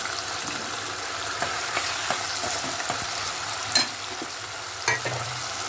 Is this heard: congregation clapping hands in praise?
no